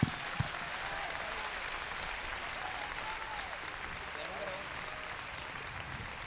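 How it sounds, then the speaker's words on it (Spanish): A church congregation gives sustained applause for Jesus Christ, a steady wash of many clapping hands at moderate level that runs evenly throughout with no break. "Dele un fuerte aplauso a Jesucristo para comenzar"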